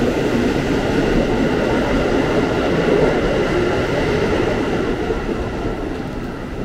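A commuter train rumbles steadily through a KRL station in Indonesia, a dense continuous roar with a broad low hum and no voices, fairly loud throughout.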